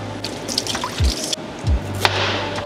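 Fresh ginger rinsed under running water for a Filipino chicken tinola, giving a close, uneven splashing and dripping with a few low thumps from handling the root; no one speaks.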